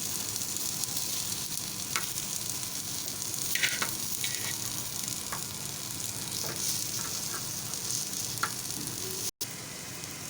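Onions roasting in a pan give off a soft, continuous sizzle, with occasional light scrapes and clicks of turning the pieces, fairly quiet and close.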